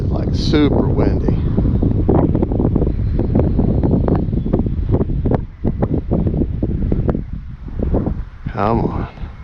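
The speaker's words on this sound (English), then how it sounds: "It is like super windy." Strong gusting wind buffets the microphone at an RC flying field, a loud continuous low rumble with rising and falling surges, while someone speaks briefly near the start and end.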